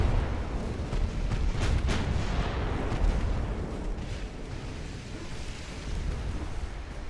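Warship guns fire in the naval battle game Ultimate Admiral Dreadnoughts, a dense run of deep booming salvos rolling together at steady loudness, with no talk over them.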